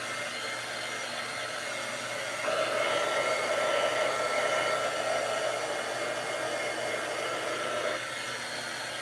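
A hair dryer blows on a craft project before stenciling, a steady airy whir that starts low, rises louder for several seconds, then drops back to a softer setting, with no talk.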